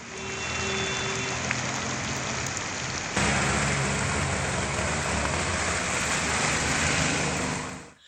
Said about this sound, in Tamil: கோவை மாநகரில் பரவலாக மழை பெய்த நிலையில்